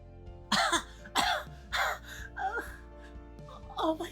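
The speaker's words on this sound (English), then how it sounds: "Grasping her throat and coughing slightly" A girl coughs in short rough bursts, roughly five hoarse coughs spaced about half a second apart, close and fairly loud, with breathy strained gasps between them as she grasps her throat; no other voices.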